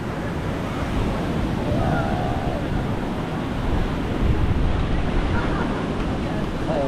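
Strong surf rolls onto the beachfront at Boracay as a steady, loud wash of breaking waves mixed with wind buffeting the microphone, continuous throughout with no clear gaps.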